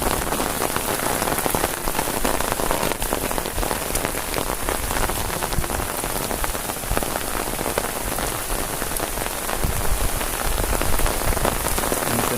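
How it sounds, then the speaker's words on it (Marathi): Heavy night rain pours down steadily and loudly in Ratnagiri for the whole stretch, a dense roar carrying strong gusts of wind, with no voices. "वारा आता जोरातच केला लागला पाऊस."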